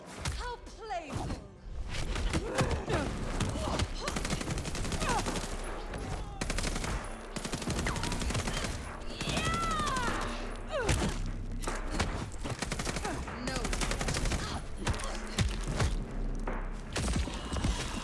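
Enemy gunfire rattles through Vampire: The Masquerade Bloodlines 2, dense volleys of shots and automatic bursts running continuously, mixed with footsteps, thuds and other game effects, with voices speaking at points.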